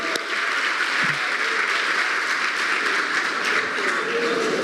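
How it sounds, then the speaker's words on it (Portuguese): Church audience applauding three elderly members over eighty, a full steady round of clapping from a large congregation, with faint murmurs beneath. "uma salva de palmas para essa turma aí de 80"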